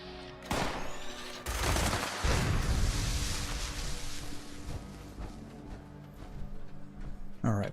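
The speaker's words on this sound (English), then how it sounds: "Who is shooting at me?" Gunfire rattles through a Fallout 76 game session, dense bursts and booming shots starting after a short pause and continuing loudly, with a faint voice underneath.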